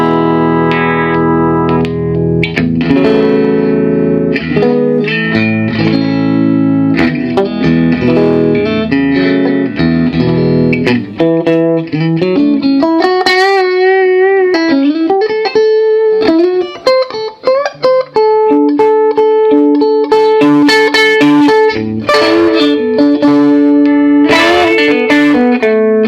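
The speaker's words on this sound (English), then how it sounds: "Here I'm going through the reverb channel." An electric guitar plays chords and single-note runs through the reverb channel of a 1965 Fender amp, reverb set around 5, with a lush spring-like tail, loud and up close, with no voices.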